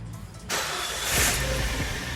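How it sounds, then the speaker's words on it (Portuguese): Citroën C4 2.0 hatchback, with a clutch pedal noise fault, cranks and fires up nearby, settling into a steady idle with a brief rise in revs after the start. "Então vamos dar partida aqui no carro."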